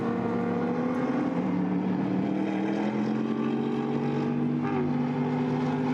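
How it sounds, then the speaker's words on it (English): A BMW straight-six race car engine at the Nürburgring holds a steady droning note that climbs slowly in pitch, moderately loud at some distance, with a brief higher whine near the end and no speech. "Makes a great sound. Presumably that's straight six in the BMW"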